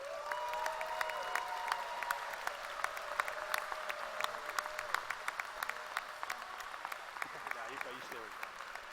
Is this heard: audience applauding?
yes